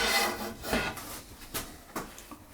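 A wet abrasive fleece pad rubs across a photo transfer on wood, giving soft, close scrubbing strokes in irregular bursts.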